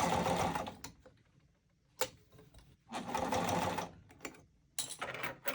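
A sewing machine stitches a bag lining in two long bursts with short stops and starts between them, close and fairly loud, with no talking.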